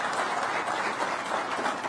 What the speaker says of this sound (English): Big round of applause for Jim Farley.